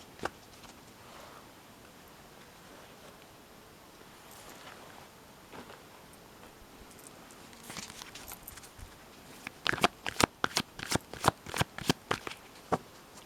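Playing cards being shuffled at close range, a soft rustle at first building into a quick run of sharp riffling snaps near the end, with no voices.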